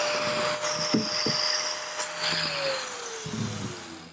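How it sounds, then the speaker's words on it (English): A grinder works knots off wooden railings at an Adirondack sawmill, a steady whining hum with intermittent scraping and rubbing against the wood, louder toward the end. "we use this grinder here, and we grind the knots off"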